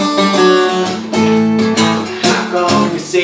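An acoustic-toned guitar plays a figure with several plucked chord changes, bright close strums and short pauses between phrases, with no voice heard.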